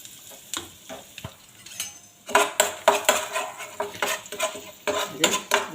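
Urad dal, chana dal, mustard seeds and curry leaves roast in a pan with a pinch of asafoetida, quiet at first, then a busy sizzle broken by repeated close metal clinks and scrapes of a stirring spoon.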